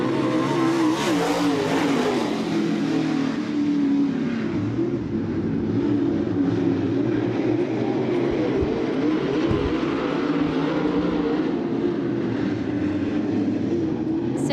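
Race cars roar around a dirt track at a speedway, with a dense, continuous engine drone rising and falling as the pack passes, distant and steady for the whole stretch.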